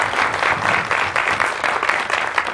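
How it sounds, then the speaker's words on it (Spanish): Brief burst of audience applause at a civic cultural event, dense, close clapping filling the whole moment. "Un aplauso para ella también"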